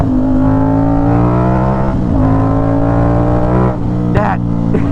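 An Aprilia RS660 motorcycle engine revs hard and loud up close, its rising howl briefly dipping and snapping back at each quick-shifter upshift, with a couple of crisp breaks near the end.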